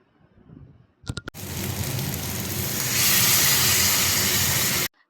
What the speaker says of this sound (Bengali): তো এখানে আমি প্রথমে মশলাটা এখানে কষে নিচ্ছি ভালো করে, তারপরে আমি কাঁকড়াটা এড করব এর উপরে।